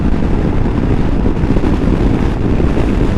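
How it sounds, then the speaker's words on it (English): Strong headwind roars across a rider on a Lexmoto Nexus 125cc scooter at around 60–65 mph, a loud, constant broadband rush buffeting the microphone with no speech. "I feel like I have a really strong headwind on me today."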